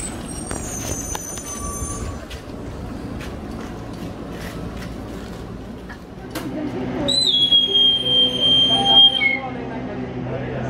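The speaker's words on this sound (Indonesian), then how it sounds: "mau ke Bogor nih mengabadikan kereta api ini" A KRL Commuter Line electric train passes with rumbling wheels and a rising roar, then a long high-pitched squeal of the wheels on the rails partway through.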